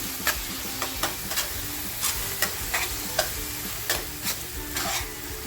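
Eggs break up while frying in a pan for egg bhurji: a steady sizzle runs throughout, broken by about a dozen sharp clicks and scrapes of the spatula against the pan.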